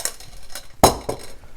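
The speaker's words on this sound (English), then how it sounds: "So we'll just put our peas in the blender." Blanched green peas tipped into a blender: a few soft clinks and scrapes, then a sharp clatter as they land in the jar, followed by lighter rattles.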